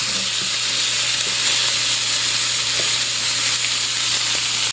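Food fries in a hot skillet with a loud, steady, close sizzle that runs without a break and carries no talk.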